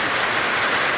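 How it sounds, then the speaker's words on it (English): Steady rain falls in a constant, even hiss of broadband noise, moderately loud and unbroken, with no voices. "It's been raining non-stop"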